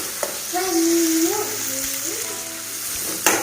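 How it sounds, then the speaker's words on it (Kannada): Roughly chopped onion fries in a pan, a steady close hiss throughout, with faint voices in the background and a sharper clatter near the end. "ರಫ್ ಆಗಿ ಚಾಪ್ ಮಾಡ್ಕೊಂಡಿರೋ ಆನಿಯನ್ ತಗೊಳ್ಳೋಣ. ಇವಾಗ ಒಂದು 2 ನಿಮಿಷ ಚೆನ್ನಾಗಿದ್ದು ಫ್ರೈ ಆಗಲಿ."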